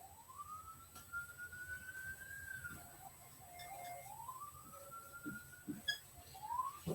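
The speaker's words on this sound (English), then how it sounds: "sorry for those sirens in the background" A siren wails in the distance, its pitch sliding up and holding, then dipping and rising again, steady and fairly faint with no voices.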